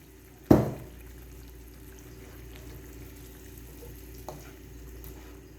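Boiled chana dal and its water pour into cooked masala in a pan, giving one loud splashing sizzle burst that quickly settles into a quiet, steady simmer with a faint stir later.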